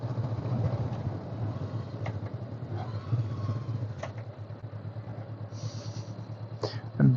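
A Honda NX500 motorcycle being ridden, heard as a steady low engine drone that holds throughout with little change, alongside a few faint brief clicks.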